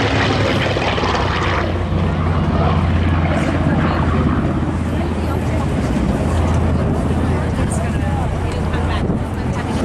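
A Grumman TBM Avenger propeller aircraft roars past at an air show, its undercarriage not fully retracted, a loud sustained engine drone filling the air while a commentator speaks over it.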